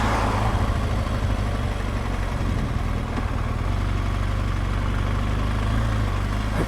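A tractor's engine drones steadily on a country road in France. The low, heavy rumble stays constant and fairly loud throughout, with no talking.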